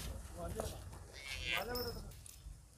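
Water buffalo at a livestock sale in Rajasthan calls out in a drawn, bellowing low cry, heard near under the talk of people at the market.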